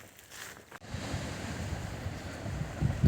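Sea waves and wind on the open Mølen coast in Norway, a broad rushing surf wash with gusty microphone wind, rising in strength after a brief dip, no voices.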